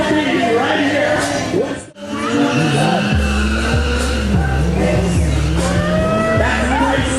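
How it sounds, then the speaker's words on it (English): A motorcycle does a side burnout at a stunt show, its engine revving hard while the tires squeal in long, wavering whines. A brief dropout comes, then a loud steady drone and repeated squeals follow, with a voice talking over it. "Crazy Martin's doing a side burnout down there."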